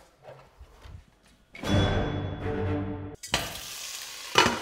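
A sudden loud sizzle erupts as meat hits a hot sauté pan, hissing steadily for a moment before a second burst of frying sizzle.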